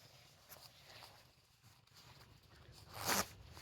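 A pocket zipper on clothing is pulled shut outdoors beside a bike with a 100cc motor, a quick faint rasp near the end after soft rustling and handling noises, no talk.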